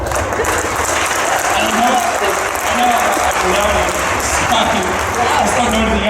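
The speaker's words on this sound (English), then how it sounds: "Big applause." A convention crowd at a Comic Con Q&A panel applauds continuously, a loud dense roar of clapping with a few voices talking over it throughout.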